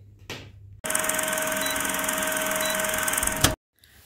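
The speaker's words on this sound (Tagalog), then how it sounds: "mag-vacuum tayo. Vacuumin ko yung isang room" A vacuum cleaner runs while a room is being cleaned in a home in the Netherlands. It is a steady, loud whining roar lasting about three seconds, then it cuts off abruptly, with a brief clatter just before it starts.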